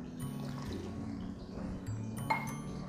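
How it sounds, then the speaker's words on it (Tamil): Water is poured quietly into a pot with a soft, continuous trickle and a faint clink of metal near the end. "இதில் வந்து 1 டம்ளர் தண்ணி ஊற்றுங்க."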